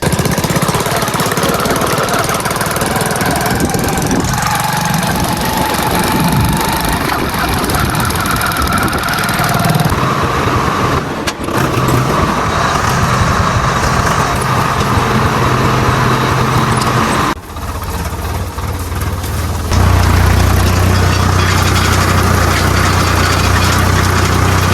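Farm tractor engine running steadily and loudly close by, a continuous chugging drone that briefly dips in level twice before settling into a lower, rougher idle near the end.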